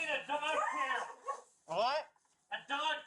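Several dogs in a filthy house bark and yip in short, loud, close bursts separated by brief pauses.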